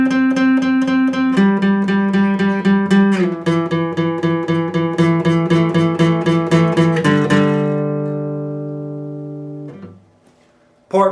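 Electric guitar playing part 3 of a riff at full speed: a run of quick, evenly picked notes shifting through a few chord positions, ending on a sustained, decaying chord, heard alone and close.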